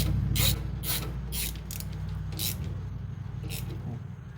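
Ratchet wrench tightening a 10mm bolt on the rear set of a Grom clone motorcycle, a series of close, evenly spaced ratcheting clicks in short bursts.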